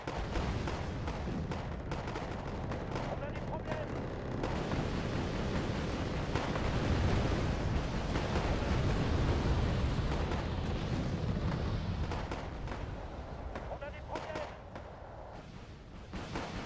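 Continuous rumbling barrages of artillery fire in the war game Wargame Airland Battle, a dense, heavy roar of blasts and explosions running throughout, briefly easing near the end.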